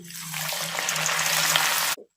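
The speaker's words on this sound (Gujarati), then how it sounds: "તેલ સારી રીતે ગરમ થયું છે હવે આપણે નમકીન માટે તૈયાર કરેલા મગમાંથી થોડા મગ એડ કરીશું" Whole moong beans hit hot oil for a crunchy namkeen snack, setting off a loud, steady sizzle and bubbling that holds for about two seconds and then cuts off abruptly.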